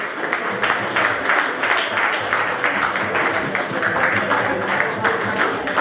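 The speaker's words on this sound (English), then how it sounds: "Give me a round of applause, please." Steady audience applause at the CMA Awards 2018 fills the room, dense and continuous at a moderate distance, with faint voices mixed underneath.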